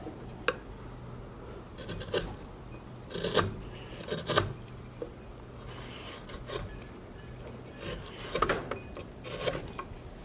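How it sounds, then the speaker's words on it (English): Small chisel cutting into catalpa wood during hand carving: short rasping scrapes in irregular bursts, some brief and some longer, close by and fairly quiet, with no talking. "now moving to a smaller chisel"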